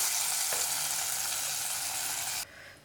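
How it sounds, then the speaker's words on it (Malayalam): Crispy fried onions in hot oil are poured into a kovakka (ivy gourd) coconut-milk curry, giving a loud, steady sizzle that cuts off abruptly near the end, leaving a faint hiss. "ഈ ഉള്ളി നമുക്ക് ഈ കറിയിലേക്ക് ഒഴിച്ചു കൊടുക്കാം."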